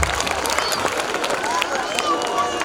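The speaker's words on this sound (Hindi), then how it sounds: "जोरदार तालियां हो जाए।" An audience at a school inaugural function and prize distribution claps loudly. The dense, continuous patter of many hands goes on throughout, with voices murmuring underneath.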